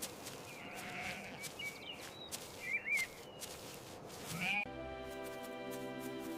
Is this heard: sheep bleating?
yes